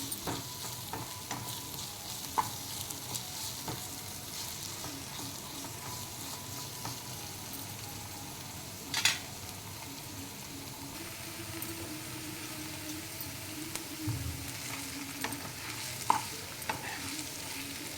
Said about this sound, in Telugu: అల్లం వెల్లుల్లి పేస్ట్ వేసాను ఒక్కసారి కలుపుదాము